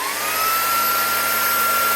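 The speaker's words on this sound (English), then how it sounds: "y'all can see the vacuum real quick and listen to it." A Shark WS642AE WandVac handheld vacuum runs up close with a loud, steady whir, its high whine climbing slightly as the motor spins up, with no voices.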